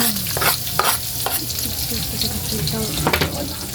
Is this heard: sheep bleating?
no